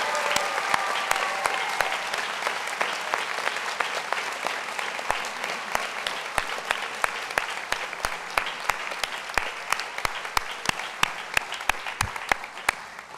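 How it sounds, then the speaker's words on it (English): A large audience applauds steadily and warmly at a school recognition day ceremony, dense clapping filling the room throughout, with a few sharp claps standing out near the microphone. "Can we have one more round of applause?"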